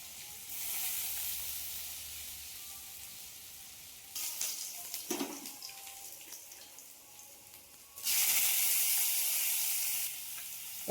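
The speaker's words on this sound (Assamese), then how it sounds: "আলু অলপ সৰু সৰুকৈ কাটি মই ভাজি লৈছোঁ।" Small-cut potato pieces fry in hot oil, a bright hiss that swells and fades as the pan is worked, with a few clinks and stirring scrapes and a loud sustained sizzle returning near the end.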